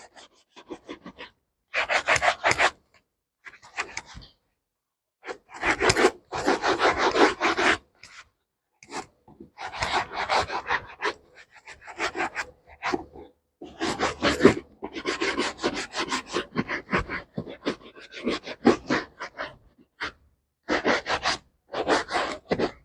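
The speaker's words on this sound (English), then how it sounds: "So after the polishing, see, I'm now getting done with my polishing." A shoe is buffed with homemade charcoal polish in close, repeated bursts of rapid rasping strokes separated by short pauses, with no talking.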